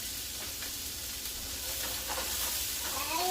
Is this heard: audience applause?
no